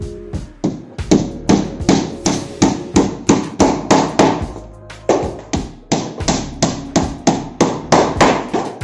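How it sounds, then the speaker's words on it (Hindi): Nails hammered into plywood panels fitted inside the boxes of a wooden double bed frame, in a steady series of sharp, loud hammer strikes with brief pauses between runs of blows. "ये इसके अंदर यहाँ पर कीलें लगाई जा रही है।"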